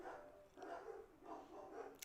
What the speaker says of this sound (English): I'm sorry if you guys hear the barking.